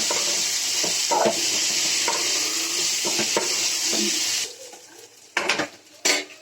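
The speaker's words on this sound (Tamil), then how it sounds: "தேங்காய் போட்டு நல்லா கொஞ்சம் வதக்கிக்கலாம்." Grated coconut sautés in a pan for pirandai chutney, a steady loud sizzle with occasional spatula scrapes that cuts off partway, followed by two or three sharp scraping stirs.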